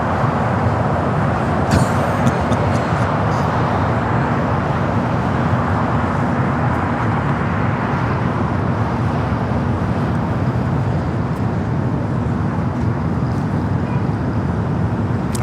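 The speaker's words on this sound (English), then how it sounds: "Japan Airlines, the flight heading back to Osaka, now rolling down to 25 right." A Japan Airlines jet bound for Osaka rolls down runway 25 right at Los Angeles airport, a steady broadband roar of engines and rushing air that holds continuously throughout, fairly loud and distant with no talking.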